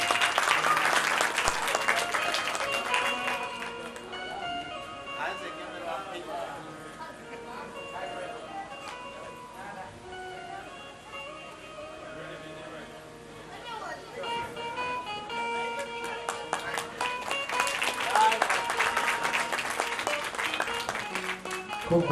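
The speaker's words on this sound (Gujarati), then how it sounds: "વધાવો જોરદાર તાળીઓથી." An audience at a folk diary event in a village claps loudly and at length, with the applause swelling at the start and again near the end as a voice talks over it.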